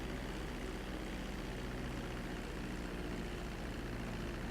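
A steady, low airplane engine drone in the video game GTA V, continuous and unchanging throughout, with no talk.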